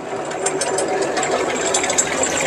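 An Iseki TG33 tractor with a 33 hp three-cylinder engine, rubber tracks, an air-conditioned cab and a two-metre rotary tiller, running with a steady, fast mechanical clatter and rhythmic ticking, loud and close.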